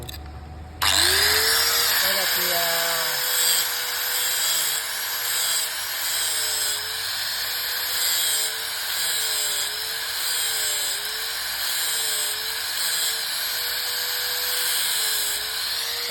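A steady motorised grinding whine runs throughout, its pitch dipping rhythmically as a drill bit is pressed against the grinding wheel to sharpen it; a voice speaks briefly.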